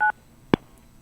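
A brief electronic phone tone sounds on a radio call-in line, followed by a single sharp click or blip, then near silence.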